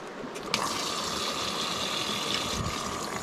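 A Joolca portable camping shower at full pressure and full heat: steady, loud rushing water gushes on after a brief start and runs continuously, close and alone without voices.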